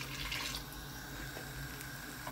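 A thin stream of water runs into a pan of coconut-milk fish curry, a steady gentle trickle with a slightly brighter splash at the start, close and faint, no talking.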